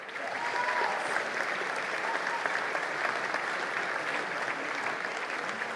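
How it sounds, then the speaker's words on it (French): An audience at a festive evening event applauds steadily, a dense continuous wash of clapping lasting several seconds, with no pauses. "On peut l'applaudir encore une fois."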